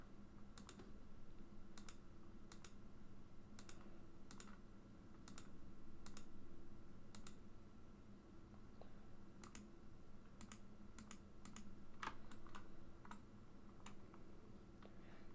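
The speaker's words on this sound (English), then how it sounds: "So you're going to hold shift and then just click on each vertex." Mouse clicks while selecting vertices in Blender sound as a slow, irregular series of crisp, faint ticks over a steady low hum from a computer.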